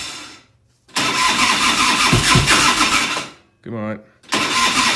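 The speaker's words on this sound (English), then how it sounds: "Turn that on and give her a start. Give her a couple cranks." A 1990 Harley-Davidson FLHTC Evo with a no-spark fault cranks loudly up close and catches in rough bursts, cutting out and trying again several times, while a person speaks briefly between attempts.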